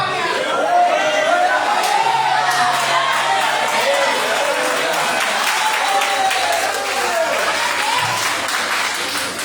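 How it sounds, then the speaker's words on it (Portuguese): Church audience applauding during a sermon, a dense, steady wash of clapping and crowd noise lasting the whole stretch, with voices mixed into the clatter. "Você está aplaudindo porque ele é tudo."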